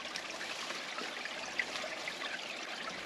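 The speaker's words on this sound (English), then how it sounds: "Pouring out from under this rock." Natural spring water pours steadily out from under a rock outdoors, a continuous close trickling wash with no talking over it.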